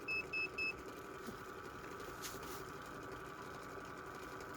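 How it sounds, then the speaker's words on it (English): Three short electronic beeps sound in quick succession at the start, over a steady mechanical hum that continues alone afterward. "Something's beeping."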